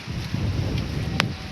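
A strong southerly wind blows outdoors by a river during a storm, a steady rushing roar buffeting the microphone, loud and continuous with a brief sharp rustle near the end.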